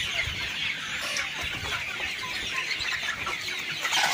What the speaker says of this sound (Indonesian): Ini ayam kampung asli, bukan juper